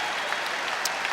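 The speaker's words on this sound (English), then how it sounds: "This crowd rises to their feet" Applause from a college wrestling crowd at Penn State rising to its feet after a technical fall in a 157-pound bout, a dense, loud, steady wash of clapping with a few sharper peaks.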